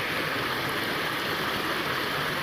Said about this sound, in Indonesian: Ini berisik gemericik air di sini soalnya dekat tuh. Ada curug-curug yang kecil-kecil.